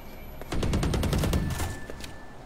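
Rapid automatic gunfire from a running player in the Valorant shooter game, a loud burst of close, evenly spaced shots lasting about a second and a half, then fading off, with no talking.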